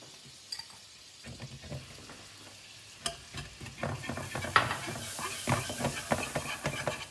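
Brown sugar being whisked into melting butter in a pan, with soft sizzling under irregular scraping and clinking strokes of a whisk that grow busier and louder partway through.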